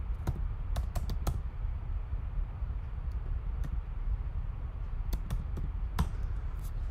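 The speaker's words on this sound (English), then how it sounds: "I'm typing it right here." Sharp keystrokes tap on a computer keyboard in uneven bursts and clusters, close and fairly crisp, with a low background rumble and no voices.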